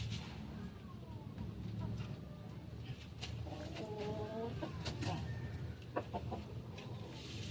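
A rooster clucks a few times at a moderate distance over faint outdoor background noise, with brief squawks near the end.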